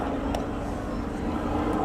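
A Hawker Hurricane flying at an airshow, a continuous low propeller-engine drone, moderately loud and steady, with no talk over it.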